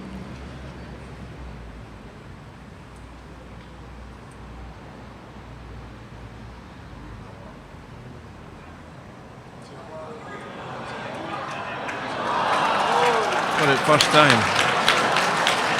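Spectators break into applause near the end of a men's pairs final at an international lawn bowls classic in Hong Kong, rising over a quieter stretch of commentary and ambient murmur.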